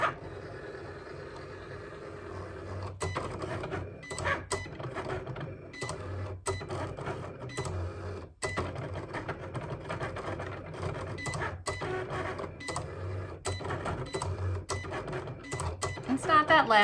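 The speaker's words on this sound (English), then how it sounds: "It's not that loud. Cricut's not a loud machine." A Cricut Explore Air 2 cutting machine runs a cut, giving a steady mechanical whir with repeated sharp clicks and carriage movements at regular intervals, while a person keeps talking over it.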